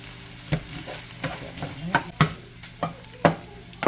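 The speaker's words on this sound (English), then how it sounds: "I'm going to go ahead and stir that around just a little bit." Food sizzles in a frying pan while a spoon stirs it, giving a steady hiss broken by sharp clacks of the utensil against the pan, close up, with no talking.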